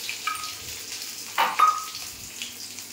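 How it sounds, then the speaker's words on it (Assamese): A soft, steady sizzle of garlic hitting hot oil, with a brief louder crackle midway, close and short. "এইফালে মই অকণমান নহৰু দি তেলত নহৰু দিছোঁ"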